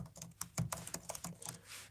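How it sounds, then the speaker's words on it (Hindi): Close, quiet clicking of keys as an email address is typed on a computer keyboard, a rapid irregular patter of keystrokes. "अब मैं अपना ईमेल एड्रेस टाइप करूंगा"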